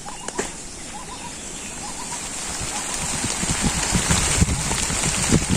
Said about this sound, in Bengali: এই যাবার বৃষ্টি আসে দেখছেন